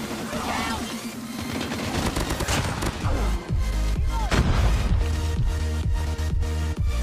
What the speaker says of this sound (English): The MSMC is a very good SMG and could still be the fastest killing SMG at close range